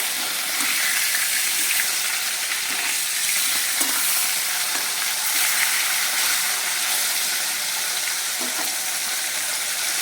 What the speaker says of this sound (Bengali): মাছগুলো বেশি ভাজবো না, অল্প করেই ভাজবো।